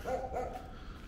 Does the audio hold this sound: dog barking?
yes